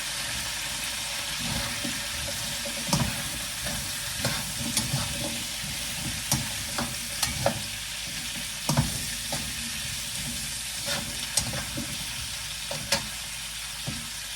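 Vegetables tossed and fried in a hot pan with olive oil, a steady loud sizzle with scattered scraping and stirring knocks throughout.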